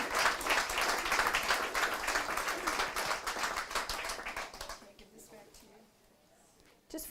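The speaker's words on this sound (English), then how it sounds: "can we clap for your presentation?" An audience at a citizen-of-the-year awards gathering claps and applauds steadily for several seconds, the sound fading out near the end before a brief sound returns at the close.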